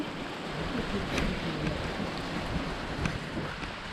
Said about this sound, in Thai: ฝนตกค่ะโอ้ย